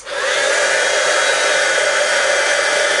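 A heat embossing tool blows hot air onto a craft metal sheet with a loud, constant whooshing roar, close and unbroken throughout without any talk.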